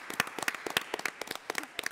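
A few people applaud in a largely empty hall, giving sparse, irregular hand claps at a moderate distance with no voices.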